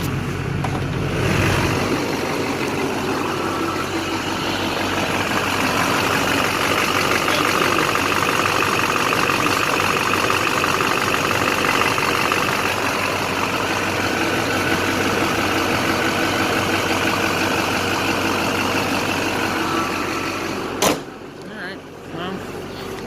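A diesel LB7 Duramax truck engine idles steadily after an injector replacement, a continuous even rumble holding for over twenty seconds before a brief click near the end.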